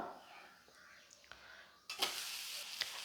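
A grain-batter dosa made without rice, flipped over on a hot pan. A quiet stretch ends in a sudden burst of sizzling, followed by a sharp scrape and a steady, faint crackle.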